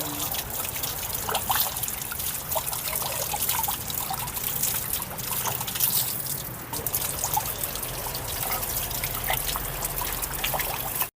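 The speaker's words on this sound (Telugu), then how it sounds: "ఇప్పుడు వీటిని శుభ్రంగా కడిగి చెక్కు తీసుకుందాం." Ridge gourds rinsed under a running tap in a kitchen, a steady splashing trickle that runs continuously close by, with scattered drips and small knocks and no talk.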